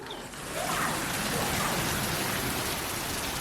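Steady heavy rain pours down outdoors just after a hailstorm, a dense, even hiss of drops on surfaces that swells slightly at the start and then holds constant.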